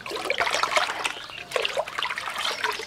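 Water trickles and splashes as calcium syrup is mixed into water for laying ducks' feed on a duck farm, a close, irregular stream of small pours and drips with a brief pause midway.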